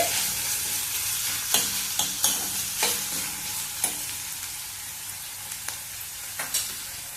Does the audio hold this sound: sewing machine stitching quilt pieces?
no